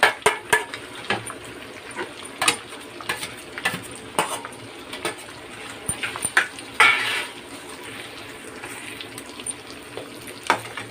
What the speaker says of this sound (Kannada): ಈರುಳ್ಳಿ ಕ್ಯಾಪ್ಸಿಕಮ್ ಎಲ್ಲ ಹಾಕ್ಕೊಳ್ಳೋಣ.